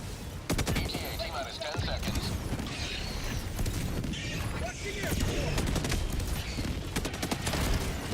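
Artillery barrage in the video game Helldivers 2 on a difficulty 9 Helldive mission, a dense run of booming impacts and rattling gunfire that goes on without a break, with voices talking over the din.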